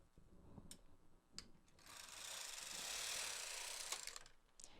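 A knitting machine carriage is pushed across the needle bed to knit a row of stitches for a shawl, with a few sharp mechanical clicks and then a smooth, louder sliding whirr that swells and fades before more clicks.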